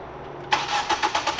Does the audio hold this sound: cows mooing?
no